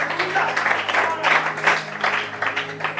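A church congregation applauding during a French-language Easter sermon, a steady broadband wash of clapping lasting throughout, fairly loud and continuous, with a low sustained hum beneath and voices mixed in.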